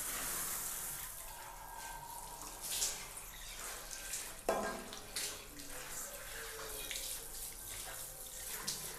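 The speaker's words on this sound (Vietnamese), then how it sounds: "Ta sử dụng vòi sen để ta xả lại." A shower head sprays water to rinse a bathroom basin, a steady hissing rush with splashes and occasional knocks, fairly quiet and without talk.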